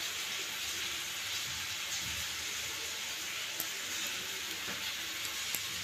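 Poha fries in a pan with a steady, even hiss of sizzling, close and moderately quiet, with a couple of faint ticks of stirring and no talking.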